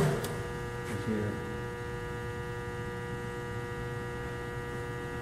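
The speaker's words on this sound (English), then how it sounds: "You just barely hear the motor" A steady low motor hum from a Willis RD1300H radial drill drones on without change, faint and even, with no voices.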